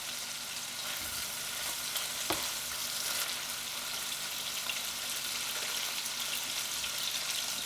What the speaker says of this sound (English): butter and garlic cooking together and like a really amazing freaking steak in there